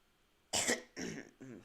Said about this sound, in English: I've coughed a lot.